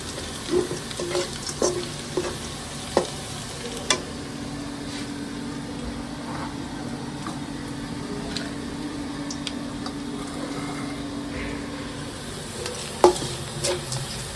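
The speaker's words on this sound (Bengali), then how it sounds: "আমার পেঁয়াজটা পরে ভাজা হয়ে গেছে তো আর একটু ভাজা ভাজা মশলাটা দিয়ে দেবো" Onion and spices sizzle steadily in a pan for a buffalo meat curry, a constant close frying hiss with occasional sharp ticks and stirring clinks, no talk.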